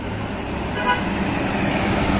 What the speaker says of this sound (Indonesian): Melintas ini unit bus Breeze Trans.